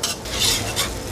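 A Vietnamese pancake sizzling and frying in a pan as it is flipped, with a steady hiss and brief scraping bursts of the utensil against the pan, close and moderately loud, with no talking.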